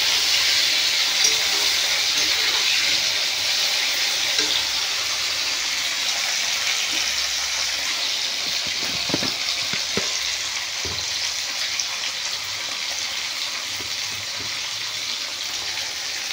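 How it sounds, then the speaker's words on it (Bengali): Sliced okra (bhindi) frying lightly in a pan, a steady broad sizzle and hiss with a few faint clinks of stirring, close and continuous throughout. "ঢেঁড়সটা একটু ভেজে দেবো হালকা করে।"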